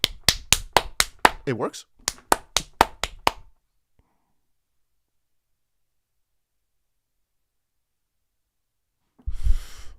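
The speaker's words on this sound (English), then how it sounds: "Oh, I think that was like a few claps too many." One person clapping hands, a quick run of sharp claps alternating with brief speech, then a long silence before a loud burst of noise at the end.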